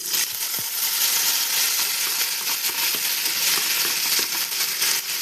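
Onion frying in a pan gives a loud, steady sizzle and crackle, close up and unbroken, with faint scraping and clinks underneath and no talk.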